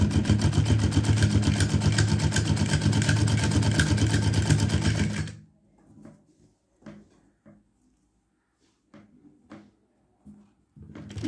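A sewing machine stitching the border strip of a cloth table cover, a loud close continuous whirring run that stops abruptly halfway, followed by scattered soft handling clicks and rustles.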